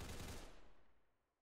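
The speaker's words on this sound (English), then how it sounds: "Now has heard some gunshots" Rainbow Six Siege gunfire heard as a single short, muffled burst that quickly decays into a fading tail, faint and distant with no talking over it.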